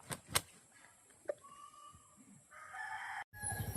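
A rooster in a rural province crows once at moderate distance amid scattered clicks and thumps, then a louder stretch of rustling outdoor noise.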